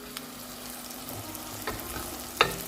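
Onions fry with a steady, continuous sizzle in a pan while spicy okra and potato curry is being cooked, with one brief sharp clatter near the end and no talking.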